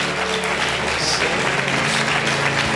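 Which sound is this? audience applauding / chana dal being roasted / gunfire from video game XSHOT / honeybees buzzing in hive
audience applauding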